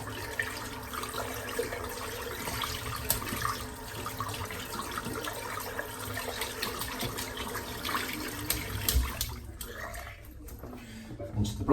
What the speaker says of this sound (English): Rinse the brush out